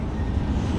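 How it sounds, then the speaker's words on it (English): Low, steady rumbling of a train going by at some distance, a muffled continuous drone without speech. "can hear the train going by."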